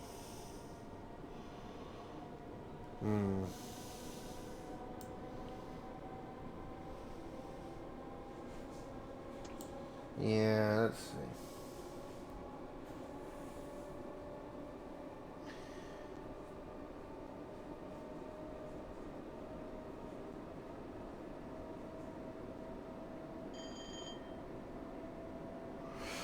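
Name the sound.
train running, from video game Train Sim World 6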